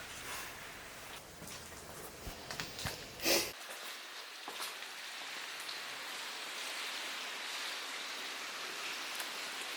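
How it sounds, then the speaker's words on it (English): Steady rain falls outside an abandoned ice cream factory, a soft continuous hiss of drops on surfaces with a brief louder knock early on, heard from indoors at moderate level. "it's really rainy outside"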